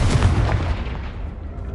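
A Confringo fire spell explodes in Hogwarts Legacy on PS5, a single loud rumbling blast heavy in low end that slowly decays and thins out.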